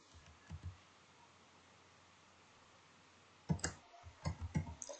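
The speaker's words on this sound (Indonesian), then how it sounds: "ketik sandinya" Soft keyboard key clicks while a password is typed during a Google G Suite account login, a few scattered taps early then a quick burst of close, quiet keystrokes near the end over faint background hiss.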